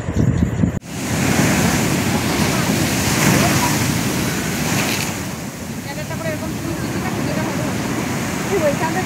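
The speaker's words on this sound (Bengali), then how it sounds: "তো দেখো কত উঁচু উঁচু ঢেউ আসছিল" High sea waves roll in at a river-mouth shore, a loud, continuous roaring wash of surf with wind buffeting the microphone, after a short burst of noise at the start.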